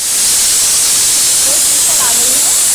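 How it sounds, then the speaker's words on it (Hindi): Steam hisses steadily and loudly from a pressure cooker whistle while carrot halwa cooks, a continuous broad rush that holds for the whole stretch without any voices over it. "और एक विसल आने तक वेट करेंगे।"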